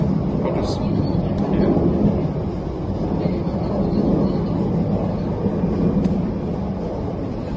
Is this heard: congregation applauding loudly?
no